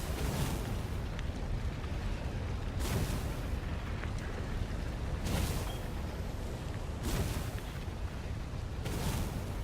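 Cannon traps in the video game Stories: The Path of Destinies fire in a steady cycle, heavy booming blasts roughly every two seconds over a dense rumbling background, loud and close with no talking.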